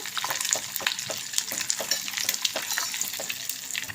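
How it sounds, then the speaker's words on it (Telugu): Dry red chillies, curry leaves and asafoetida sizzle steadily in hot oil for a tempering, a continuous crackling hiss with scattered sharper pops throughout, close and fairly loud with no voices. "ఇవన్నీ ఇలా వేగాయి కదా"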